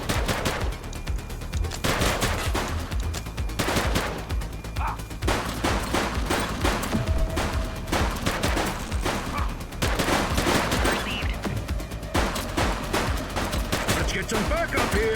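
Police open fire in a shootout in The Precinct, with rapid bursts of automatic gunfire and single shots cracking close and loud in dense volleys for the whole stretch, broken by brief pauses.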